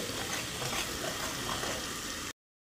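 Besan masala with turmeric roasts in a pan, giving a steady, close hiss of sizzling that runs unbroken and then cuts off abruptly.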